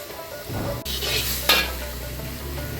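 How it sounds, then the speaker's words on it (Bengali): Grated bottle gourd and coconut fry in ghee for a milk pudding while a utensil stirs them: a continuous close sizzle with scraping strokes and a brief clatter of the spoon against the pan. "এখন লাউটা ভাজা হয়ে গেছে এখন নারকেলটা দিয়ে দিই"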